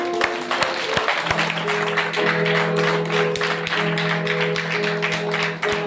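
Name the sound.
congregation clapping hands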